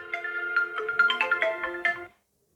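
A phone ringtone plays a short melodic tune of bright tones for about two seconds, then cuts off into silence.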